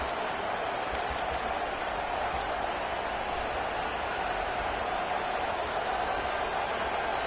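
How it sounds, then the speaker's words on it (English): A home stadium crowd in the college football video game NCAA 25 roars in a steady, dense wash of cheering that holds at an even level throughout, with no break or rise. "this crowd really affecting the football game"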